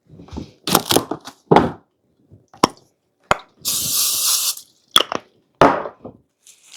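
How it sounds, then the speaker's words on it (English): Short hissing bursts of aerosol cooking spray onto plastic wrap, several in a row with clicks and pauses between, one longer spray in the middle. "I'm going to spray the plastic wrap for this one as well."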